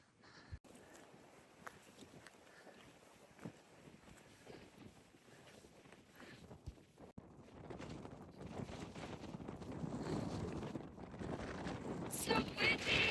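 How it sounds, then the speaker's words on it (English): Wind gusting on a hiking trail at sunset, a steady low rushing roar that builds toward the end, with a few faint knocks and footsteps. "So windy."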